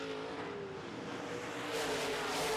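Modified race cars roar around a track in a feature race, with steady engine drone that grows louder and brighter as cars close in.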